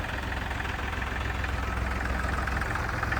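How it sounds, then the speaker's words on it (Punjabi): A Mahindra 275 tractor engine idles with a steady, low, rumbling chug, close and continuous, with no voices. "ਆਵਾਜ਼ ਸੁਣੋ ਟਰੈਕਟਰ ਦੀ"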